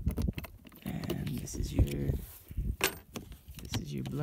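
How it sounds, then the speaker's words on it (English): Keys jangle and clink in uneven bursts while someone searches for them beside a 2003 Thor Skamper Sport camper, and a voice talks over the rustling. "let me see if I can find my keys"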